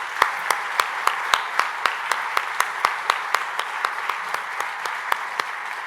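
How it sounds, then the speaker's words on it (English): An audience at a London conference event claps for an organizer, but only a few hands are distinct, giving sparse, evenly spaced sharp claps in a steady rhythm over a soft background patter. "Would you please give him a round of applause for everything he's done?"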